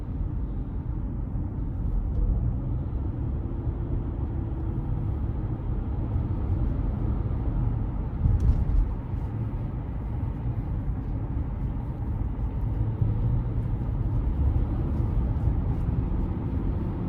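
Cabin of a 2015 Nissan Quest SL minivan under light throttle, a steady low engine and road hum that stays even and muted throughout, with no talking.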